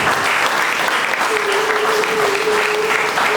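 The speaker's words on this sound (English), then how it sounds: "Give them a big round of applause" Loud, continuous applause from an audience welcoming sponsors at a Kathak dance show in Dubai, with a faint sustained tone running beneath the clapping partway through.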